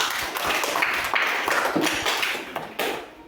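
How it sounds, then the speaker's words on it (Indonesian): A classroom group gives a short round of applause for group 2, a dense patter of clapping hands that carries steadily for a few seconds and then tails off. "tepuk tangan dulu untuk kelompok 2"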